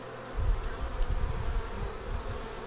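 Honey bees swarm and buzz around a weakened hive that has just been robbed, a steady close drone with low wingbeat hum rising and falling and faint high whines, no voices.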